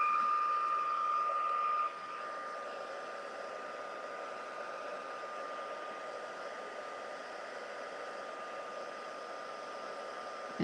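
Steady whooshing hiss of a craft heat tool heating embossing powder, close and continuous for about ten seconds, with a faint whine fading out early on.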